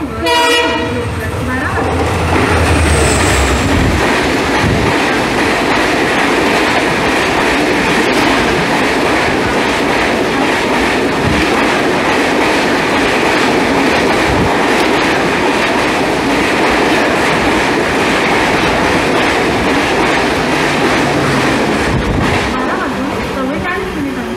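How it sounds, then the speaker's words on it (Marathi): A local train rumbles into platform 1 of a station with a horn blast near the start, steady clattering of wheels and carriages, and announcements or voices faintly underneath. "लोकल थोड़े ही समय में प्लेटफॉर्म क्रमांक 1 पर आ रही है"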